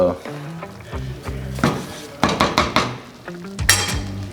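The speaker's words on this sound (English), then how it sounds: "Gets this stirred up real good" A spoon stirs cheeseburger tater soup with roux in a metal pot, scraping and clinking steadily and close up while someone talks over it. The soup includes bacon and is made beside a Blackstone 22-inch E-Series griddle.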